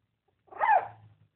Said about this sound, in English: You trying to bark?